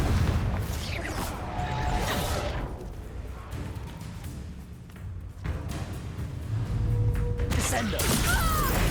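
Confringo fire spell blasts from Hogwarts Legacy combat, a busy run of booming impacts and crashing bursts one after another, loud and dense, with a voice faintly present under the noise.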